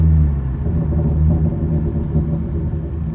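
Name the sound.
Hyundai Genesis Coupe exhaust pops while slowing down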